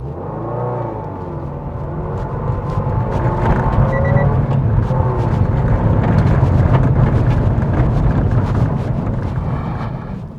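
2010 Subaru Impreza WRX STI pulling under power, a loud broad engine roar rising from a low drone amid heavy wind and road rush, with no talking.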